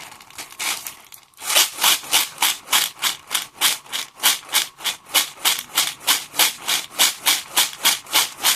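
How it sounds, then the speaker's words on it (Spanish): A maraca shaken in a fast, steady rhythm, each crisp rattling shake evenly spaced after a brief quiet start, played alone as part of covering Sprunki sounds on instruments. "Ahora sigue Pineria con una maraca."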